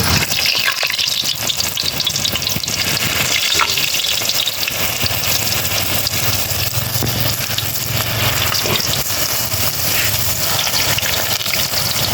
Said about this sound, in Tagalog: So tara na, magprito na tayo.